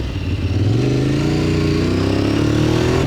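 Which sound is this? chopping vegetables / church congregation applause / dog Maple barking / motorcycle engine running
motorcycle engine running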